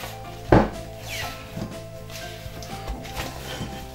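Bread dough for Nigerian agege bread is deflated by hand, opening with one firm thump followed by soft, muffled pats and rubbing sounds, close and moderately quiet, with no talking.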